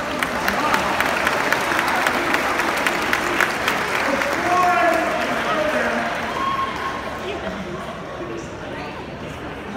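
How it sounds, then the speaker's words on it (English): An audience at a high school sports awards ceremony gives a sustained round of applause, dense clapping steady throughout and slowly easing toward the end, with some cheering mixed in. "Give them one more round of applause"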